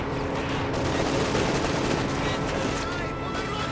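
Dense, continuous gunfire rattles through a Company of Heroes 2 battle, with overlapping bursts and shots in a loud, unbroken wall of combat noise.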